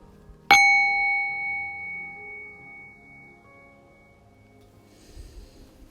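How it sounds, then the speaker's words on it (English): A meditation bell is struck once, a clear ring that hangs and slowly fades over several seconds in a quiet room, with faint breathing or rustling near the end. "I'm going to ring the meditation bell to signify the beginning of this practice"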